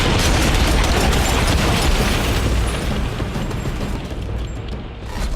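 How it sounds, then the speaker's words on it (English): Car explosions set off during a film stunt scene of rolling, crashing cars, heard as a sustained loud, dense roar and rumble with crackling bursts that holds for several seconds before thinning slightly at the end. "And we'll add some explosions to some of these cars."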